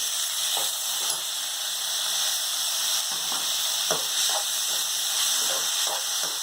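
Tomatoes fry in a pan for tomato rice, a soft steady sizzle broken by occasional light clicks and scrapes of a spoon.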